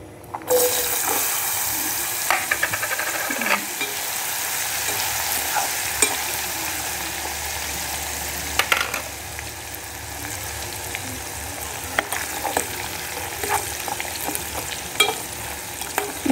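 Rambutan seeds frying in hot oil in a pan make a steady, dense sizzle throughout, with occasional small pops and clinks from stirring. No one speaks.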